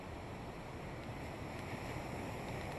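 Steady, dense rush of sea waves on the beach at Palavas-les-Flots on a windy January day, a continuous surf roar blended with wind buffeting the microphone.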